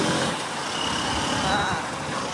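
Heavy road traffic in Bhiwandi, with a continuous roar of trucks and buses passing close by and a brief hiss like an air brake, with faint voices in the background.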